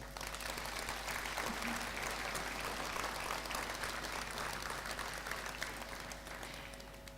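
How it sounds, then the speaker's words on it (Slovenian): Audience applause at a Christmas and New Year concert by the Hrastnik miners' brass band, steady dense clapping from a crowd heard at a distance, fairly faint, with a low hum underneath. "sicer pa mu bomo namenili en aplavz, prosim"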